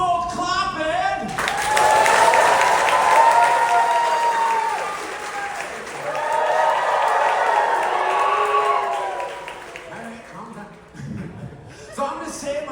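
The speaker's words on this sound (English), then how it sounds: "that involves both clapping and wee-hooing" A live audience at a Celtic Fyre show bursts into loud sustained applause mixed with whoops and cheers, swelling for about ten seconds before fading out, with a voice briefly heard near the end.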